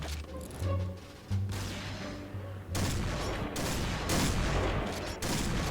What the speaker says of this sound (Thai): เดี๋ยวต้องหาจังหวะลองยิงนะครับ แบบไม่ซูมนะครับผม